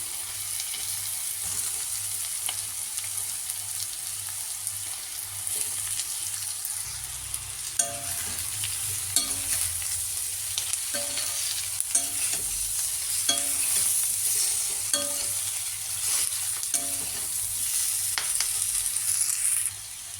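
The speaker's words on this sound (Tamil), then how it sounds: "இப்போ பொரிச்சு வச்சா இட்லியை போடணும்" Fried idli pieces sizzle in a pan for chilli idli, with repeated scraping stirs and clinks over a steady background hiss, fairly quiet and without speech.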